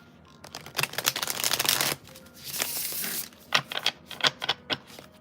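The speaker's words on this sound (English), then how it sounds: "I just gotta shuffle the deck" A deck of reading cards being shuffled close up, with bursts of riffling and flicking, a sustained rush of cards, then a series of separate sharp taps and snaps, no talking.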